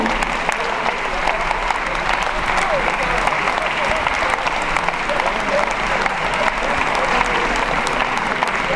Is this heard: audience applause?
yes